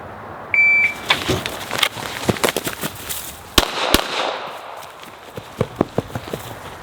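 A short electronic shot-timer beep sounds at a shooting range, followed at once by a rapid string of loud, sharp gunshots fired in quick succession, with a few more shots spaced out near the end.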